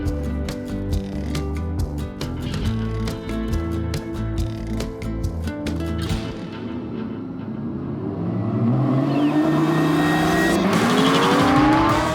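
Cheap exotic cars roll racing at a drag strip, a loud engine with rapid revving pulses that builds into a rising, drawn-out roar as the car accelerates away.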